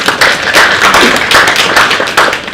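Audience applause at a parliamentary commemoration ceremony, a steady round of clapping from a seated crowd lasting a few seconds, fairly loud and continuous with slight swells.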